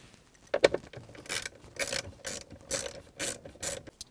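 A ratchet backs out 7mm bolts during a Cadillac XT5 dashboard teardown, giving a close series of short rhythmic clicking bursts, about eight of them in quick succession.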